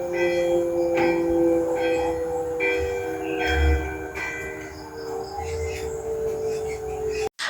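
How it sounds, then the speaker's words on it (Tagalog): A municipal town hall siren sounds together with a ringing church bell in a Philippine town, a sustained loud wailing tone layered with repeated bell strikes over several seconds, no voices. "pinaandar ang sirin sa aming munisipyo at ang bell sa simbahan"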